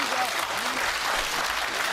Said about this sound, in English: First applause of the night.